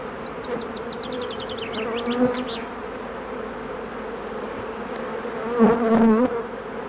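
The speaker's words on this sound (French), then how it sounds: "il y a des abeilles" Honeybees buzz steadily close by around a hive, with several louder passes swelling and fading, no voices present.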